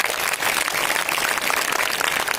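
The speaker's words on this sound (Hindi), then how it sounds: "तो जोरदार तालियों से एक बार स्वागत और अभिनंदन।" Audience applause welcoming a guest of honour at a school award ceremony at an inter college, a steady dense wash of many hands clapping that fills the whole moment without any voices.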